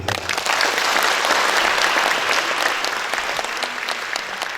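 Hearty applause from the audience at a guest lecture, a thick, even wash of clapping that stays loud and steady throughout.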